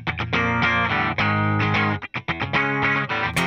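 A distorted electric guitar plays a main riff, with thick, loud chords in a choppy rhythm, one brief break near the end, and no talking.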